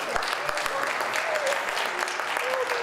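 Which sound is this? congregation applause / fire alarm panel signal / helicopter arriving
congregation applause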